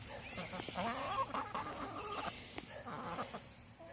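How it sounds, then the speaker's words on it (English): Cochin chickens being given grapes cluck and coo at one another in a busy, close-up chorus of short overlapping calls that continues throughout. "As you can hear them cooing and clucking at each other."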